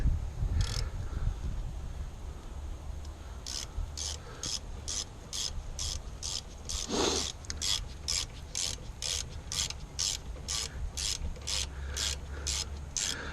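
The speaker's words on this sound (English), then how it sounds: "I like this longer ratchet, it gives me more leverage." A long ratchet turns bolts on the rear brakes of a Chevy Impala, giving a steady run of close, evenly spaced rasping clicks over a low hum, with a brief scrape partway through.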